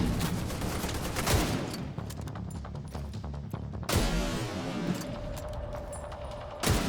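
Gunfire in The Division 2 stronghold mission: continuous rapid automatic shots rattling over a dense battle din, with a heavier burst near the middle and a faint steady tone toward the end.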